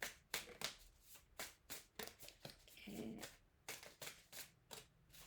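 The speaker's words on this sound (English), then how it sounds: "I'll give it one more shuffle" Tarot cards being shuffled by hand during a card reading, a series of quick crisp riffling bursts in an uneven rhythm, close and fairly quiet, with a single brief spoken word.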